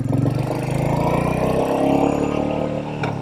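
A Royal Enfield Meteor 350 motorcycle fitted with a belt drive and an aftermarket exhaust pipe rolls down the road. Its engine gives a close, steady, throbbing note with a smooth, continuous drone.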